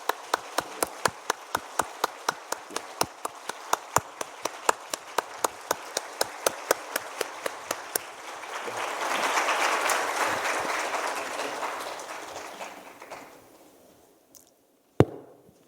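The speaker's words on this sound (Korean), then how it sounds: "뜨거운 박수로 우리 환송하도록 하십시다" Church congregation applause during a Sunday service: a burst of many hands clapping that swells, then gradually fades away, ending with a single sharp knock.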